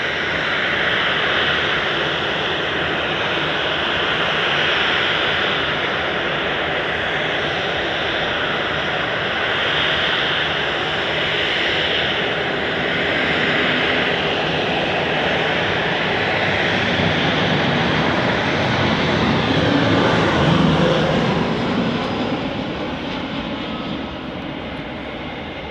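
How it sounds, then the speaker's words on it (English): An EasyJet Airbus A320 touching down at Manchester Airport sends out a long, loud jet roar that holds steady, swells near the end as the aircraft passes close, then fades. "Lovely touchdown there on the A320 with those huge sharklets at the end of the wing."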